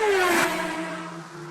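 Car sound effect from a music producer's soundkit: a brief engine whoosh that rushes past with a falling tone, then fades into a lingering hum.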